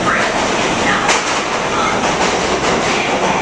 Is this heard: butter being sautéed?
no